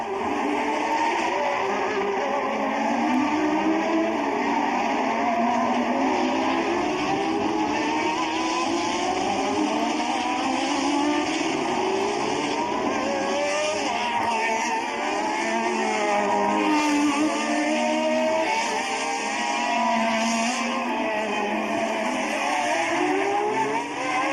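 Formula 1 race cars on track at the 1982 US Grand Prix West in Long Beach, several high-revving engines howling and shifting pitch as they pass and recede, loud and continuous throughout.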